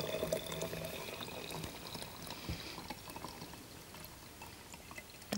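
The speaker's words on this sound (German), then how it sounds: "Dazu habe ich einfach mal Wasser im Wasserkocher heiß gemacht." Hot water from an electric kettle pours steadily into a container of salt water, a continuous splashing fill that runs the whole time at moderate loudness with no talk.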